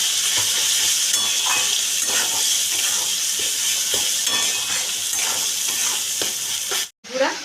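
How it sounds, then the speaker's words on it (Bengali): A masala paste with Kashmiri chili powder is sautéed in hot oil, with a loud continuous sizzle and hiss broken by frequent spatula scrapes and stirs, then a brief dropout just before the end. "কাশ্মীরি লঙ্কার গুঁড়ো দিয়ে এটাকে আমি ভালো করে কষিয়ে নিচ্ছি"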